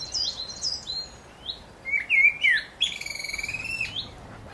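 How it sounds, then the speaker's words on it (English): A blackbird and a great tit sing in a park enclosure beside a waterfall in Kensington Gardens in March, bright whistled phrases and rapid repeated notes in short bursts against a faint background. "A blackbird and a great tit are singing."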